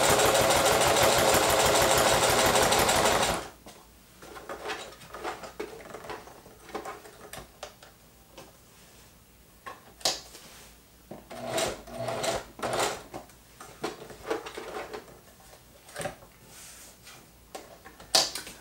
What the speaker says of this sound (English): I'm just going to sew these two pieces together and see if that gives this machine a better chance of keeping a consistent stitch length.